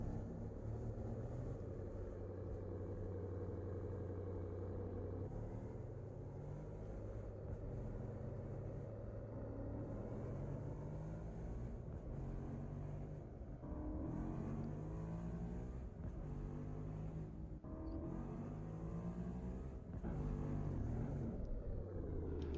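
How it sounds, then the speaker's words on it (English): A powerful video-game supercar engine in Farming Simulator 22 rumbles and revs, its deep growl rising and falling through long accelerating pulls, heard steadily over a low background drone. "a recording of something like a supercar accelerating played over the background"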